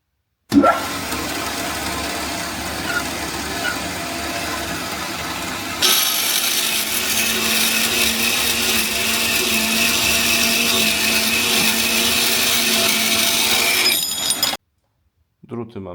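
A band saw cuts 8 mm steel rods with a steady, harsh metallic grinding. It turns louder and brighter about midway, runs continuously, then stops abruptly near the end.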